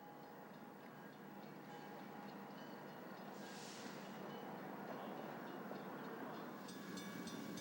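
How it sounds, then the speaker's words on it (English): Eastbound unit coal train on the Burlington Northern Chicago racetrack with six-motor GE diesel locomotives, a faint continuous rumble and rattle of rolling cars heard from a distance, with light clicking near the end. "this eastbound unit coal train was delivered to the Chicago Central by the Union Pacific at Council Bluffs, complete with run-through 6-motor GE diesels"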